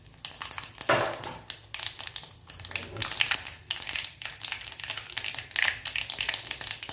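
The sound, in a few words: mustard and cumin seeds spluttering in sesame oil, clay pot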